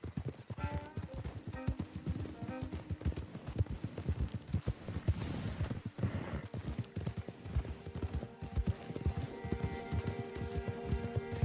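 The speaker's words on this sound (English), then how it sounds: "Don't want the horses clopping around outside the window." Horses clopping in Red Dead Redemption II, a rapid, steady run of hoofbeats close by, with a brief whinny and faint background noise and no talk.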